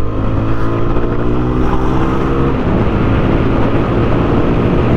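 A 2024 TVS Apache RTR 160 4V motorcycle accelerates hard while overtaking, its engine a loud, close, continuous drone that builds steadily throughout, with no talk.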